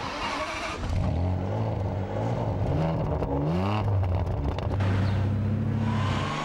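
A Ferrari Superamerica V12 engine revs up and down, a loud, close, continuous rising and falling roar.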